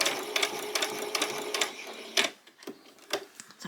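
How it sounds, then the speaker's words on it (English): A sewing machine makes a few back stitches at the end of a dress seam, giving short, close, rhythmic mechanical bursts that start and stop, then fade into lighter clicks. "When we get to the end, we're just going to do a few back stitches"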